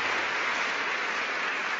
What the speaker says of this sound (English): and thank you for the clapping